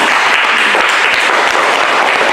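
A room full of people claps steadily, dense loud applause sustained throughout without pause.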